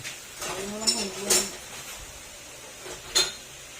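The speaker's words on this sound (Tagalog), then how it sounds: "pupukpukin na natin papalabas dito kasi hindi natin kayang hugutin ng basta basta yan" Sharp metallic taps from hammering out the crankshaft nut on a Honda ADV160 scooter: a few separate clinks spaced irregularly, close by and moderately loud, with a voice speaking between them.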